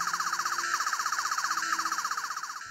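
A 12th Doctor toy sonic screwdriver plays its hidden sound, a fast pulsing electronic warble that repeats in rapid cycles and rises and falls like a siren, close and steady with no talking.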